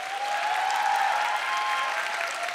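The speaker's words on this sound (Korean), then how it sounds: "두 분 수상자에게 다시 한번 큰 박수 부탁드리겠습니다" Applause for award winners at the 2018 KBS Radio Drama Awards, a dense, steady audience clapping that holds evenly for the whole moment, with no speech over it.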